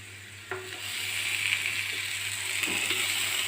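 Beetroot slices frying in a large pan give off a steady, close sizzle, with a few soft clicks and taps as pieces are added one by one.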